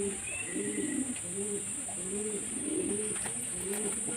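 Domestic pigeons held in the hand coo in soft repeated rolling phrases, several throaty calls in a steady rhythm, close and fairly quiet over a constant high background hiss.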